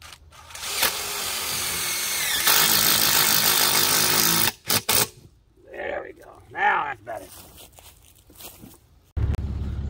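A power drill bores a new hole, whining steadily for several seconds before cutting off, followed by short bursts and someone talking, then a final loud burst of drilling.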